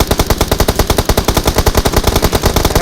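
Rapid automatic gunfire from a mobile battle royale video game rattles as a loud, continuous burst of evenly spaced shots, about eight per second, with no speech over it.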